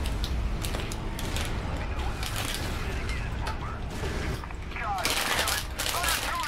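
Tank cannon fire and heavy gunfire against vehicles in the video game Prototype, a dense continuous barrage of blasts and mechanical clatter, loud throughout with brief bursts of sharper impacts.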